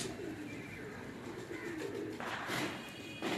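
Soft, low pigeon coos repeat against a steady outdoor background, with a couple of louder bursts of noise near the end.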